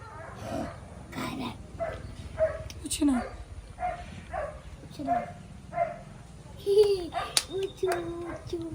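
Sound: dog barking

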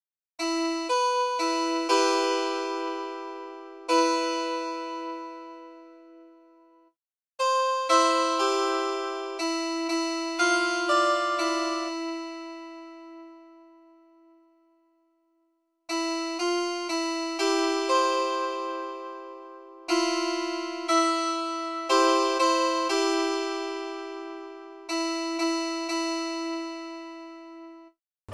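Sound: music decoded from notes hidden in Da Vinci's Last Supper

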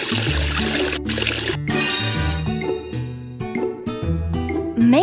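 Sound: water washing faces in a Tayo video game

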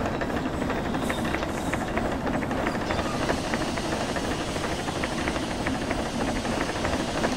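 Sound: steam locomotive steam dump hissing, Derail Valley video game

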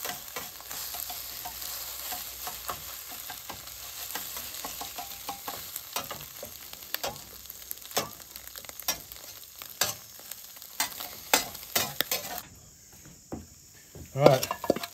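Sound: eggs being scrambled and frying in a skillet

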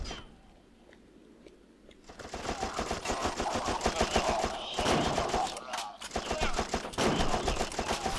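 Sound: gunfire in the video game You Are Empty

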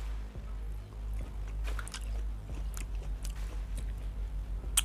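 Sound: eating steamed mussels

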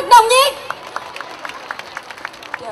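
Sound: audience applause at a Christmas concert

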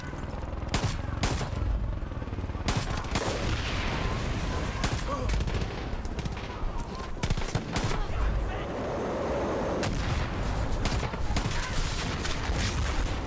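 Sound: gunfire in the video game Far Cry 5

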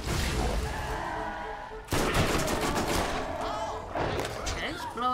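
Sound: gunfire from Borderlands video game

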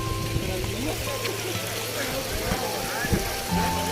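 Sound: mountain water streaming down rocks at Girnar

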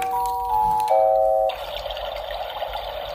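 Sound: baby toy playing waterfall or white noise sound

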